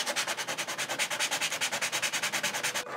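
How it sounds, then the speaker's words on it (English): A small part for a model tower is bevelled on the inside edge with rapid, even rubbing strokes, about eight per second, steady and close, stopping abruptly at the end, with no talking. "I need to bevel this inside and this inside"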